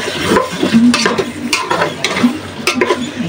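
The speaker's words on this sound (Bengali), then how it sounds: "মশলাটা ভালোভাবে কষে কলিজাগুলো দিয়ে দিলাম" Beef liver frying in a thick spice masala while being stirred, steady close sizzling with scraping spoon strokes against the pot throughout, no talking.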